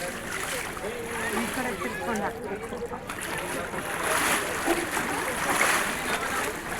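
Sea water sloshes and splashes around a boat where a river meets the sea, a continuous churning wash with people talking over it.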